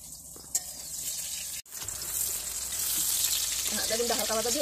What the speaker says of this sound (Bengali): বেগুনটা হালকা ভাজা দিয়ে উঠাই দিচ্ছি।